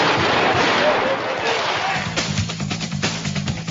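Gunfire at the Knob Creek shooting range festival, where many firearms are demonstrated: a dense wash of distant shots gives way to a string of sharper, closer reports, with a voice talking over the shooting.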